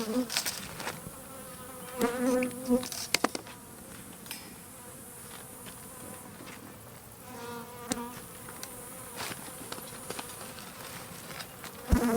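Bees swarming around a person near a hog feeder as honey is taken from a hive, a dense continuous insect buzz with individual bees droning close by, loud and steady throughout with occasional rustles and knocks.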